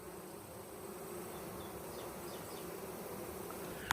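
Honey bees pour out of the bottom of a hive box during a honey harvest, making a dense, continuous buzzing drone at close range with a faint click near the end and no talk.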